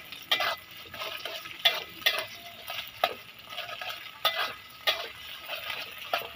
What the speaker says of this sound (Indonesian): Oke, nah, kita masukkan telur lagi. Kita goreng dia